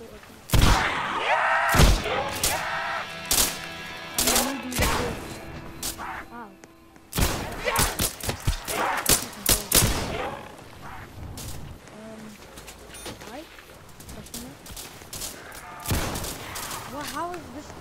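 Sawed-off shotgun blasting in a Roblox zombies game, sharp booming shots fired in uneven clusters, loud and close, with a player talking excitedly between and over the bursts.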